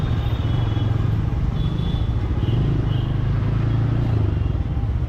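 A motorcycle creeps slowly through a heavy traffic jam, its engine a loud, continuous low rumble up close, with faint surrounding traffic noise and no talking.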